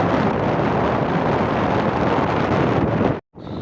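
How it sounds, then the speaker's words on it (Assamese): Wind buffets the microphone while riding a scooter, a loud continuous roaring rush that cuts out briefly near the end before returning. "স্কুটিত আহি থাকোঁতে ইমানেই বতাহ লাগিছে গাত"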